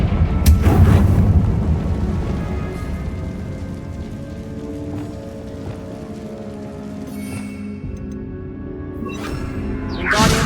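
Confringo blasting spell explosion in Hogwarts Legacy: a loud booming blast with a rumbling low-end tail that holds steady for several seconds, then a second sharp burst near the end, with no talk.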